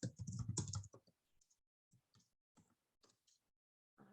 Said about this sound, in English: I'll type it in here in case y'all want to find me.